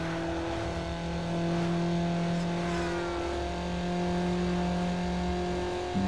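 Upgraded car engine in Need for Speed Underground revving steadily at high RPM, with sustained tonal engine whine and rising and falling pitch filling the whole stretch, close and loud with no talk.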